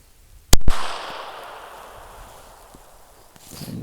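A hunter's signal flare gun fires a green flare outdoors: a single sharp, loud, close bang followed by a fading hiss.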